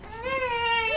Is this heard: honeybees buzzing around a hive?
no